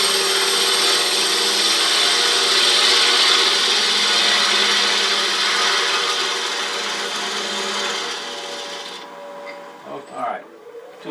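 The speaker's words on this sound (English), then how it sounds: "I'm just going to anchor the tool, skim across, open it up just a little bit." A lathe tool skimming across a wooden clamshell box, a steady close rasping scrape that holds for about eight seconds, fades, then breaks into a few short bumps as the cut stops.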